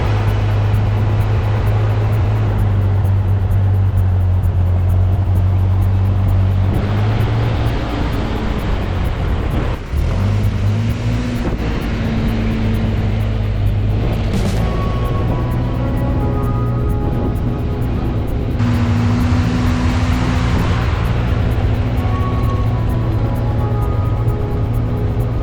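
An old tractor engine runs steadily while driving, a loud, continuous low rumble with engine speed shifting a few times and a brief dip partway through, carrying on without any talk.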